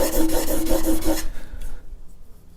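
Plane iron rubbed back and forth on a sharpening stone to raise a burr, rhythmic rasping strokes about five times per second for over a second, then fading to quieter scraping, close up with no talk.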